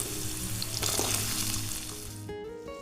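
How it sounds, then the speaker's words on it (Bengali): Potato and papaya pieces frying in hot oil, with a loud, dense, continuous sizzle close by that eases slightly toward the end. "মিনিট খানেক আলু আর পেঁপেটাকে একটুখানি ভেজে নেব"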